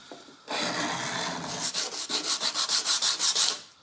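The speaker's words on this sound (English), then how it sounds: "I get all the solid wood components sanded." Hand sanding of solid wood furniture parts salvaged from bins: a steady close scrubbing rasp, then a quick run of about a dozen rhythmic back-and-forth strokes.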